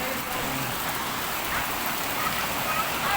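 Steady, dense hiss of heavy rain pouring down, with faint voices and noise mixed low underneath.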